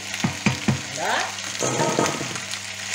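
Onion is stirred into turkey osso buco frying in a pan: a few sharp utensil knocks come first, then a bubbling sizzle with clattering stirs.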